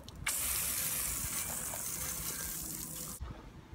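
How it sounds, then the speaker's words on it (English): Water sprayed onto a bicycle during washing, a steady hissing spray that starts abruptly, runs loud and close for about three seconds, then cuts off. "spray it again with some water."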